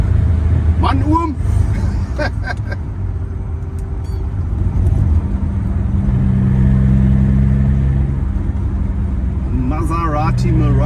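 A 1982 Maserati Merak sports car's engine drones steadily from inside the cabin while driving, a low, continuous hum that rises slightly at times, heard under someone talking throughout.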